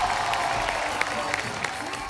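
Studio audience applause on a Hindi TV comedy talk show as film guests are welcomed, a steady wash of clapping with faint crowd murmur throughout.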